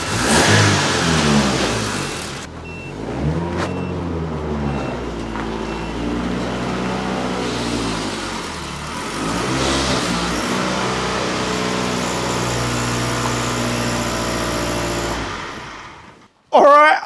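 A Ferrari-engined Alfa Romeo 105 starts from cold with a sharp crank and catch, then revs in repeated rising and falling sweeps before settling to a steady high idle, loud and close, cutting off near the end.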